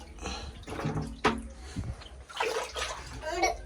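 Water pours and splashes steadily into a fish tank, with a few voices talking nearby over the running stream.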